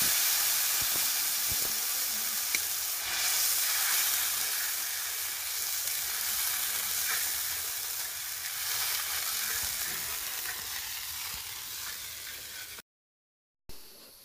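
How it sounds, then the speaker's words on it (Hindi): Continuous loud sizzling and hissing of masala frying in ghee, steady throughout with faint stirring clicks, then a brief silence near the end. "जितना भी मसाला था उसको बहुत अच्छे तरीके से भून लिया गया है"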